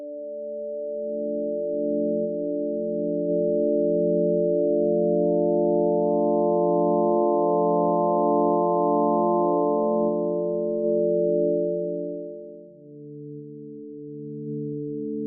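Omnisphere synth pad built from layered sine waves with slight saturation, a smooth sustained chord that swells in, holds with gentle shimmering upper tones, then shifts to a lower held note near the end.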